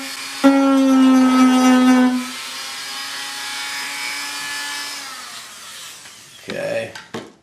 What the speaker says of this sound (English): I'm going to use this Dremel tool first. It has a sanding wheel.